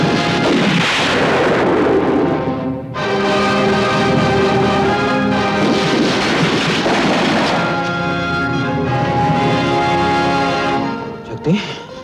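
Cannon artillery in a film battle scene booms in heavy, overlapping blasts and rumbling roars, loud and continuous, layered with dramatic music and shouting voices.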